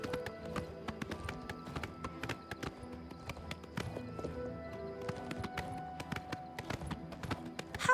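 Horse galloping in the video game Oblivion Remaster, a continuous run of quick, fairly soft hoof clip-clops over a busy game soundscape with other ambient tones.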